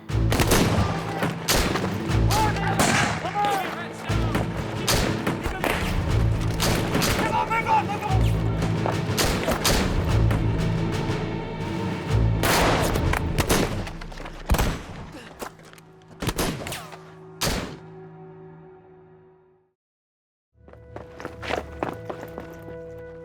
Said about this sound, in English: Bullets were flying all around us.